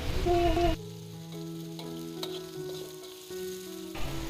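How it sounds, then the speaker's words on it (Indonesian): Shallots and garlic stir-frying in a wok, a bright continuous sizzle with stirring scrapes, joined by steady tonal hums and a short whistling tone at the start. "Selanjutnya kita masukkan bawang merah dan juga bawang putih. Kita gongso atau kita tumis hingga layu dan harum."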